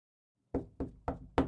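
Four firm knocks on a door, evenly spaced and close, sounding alone against silence as an audiobook effect.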